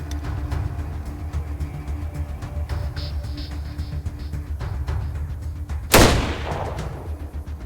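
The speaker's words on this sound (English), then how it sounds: "so I'll just shoot him in the face." A single loud rifle shot in the turn-based game ATOM RPG, one sharp close crack with a short decaying tail, standing out against steady ambient game background sound without speech.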